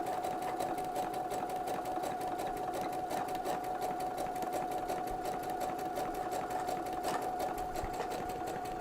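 A sewing machine fitted with a fringe looper foot stitches steadily at a slow pace with a very short stitch length, giving a continuous even mechanical whir and rapid regular ticking close up.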